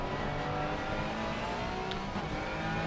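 A Porsche GT3 race car in a racing video game gives off a loud, sustained engine drone that rises and holds under hard acceleration, steady throughout without talk.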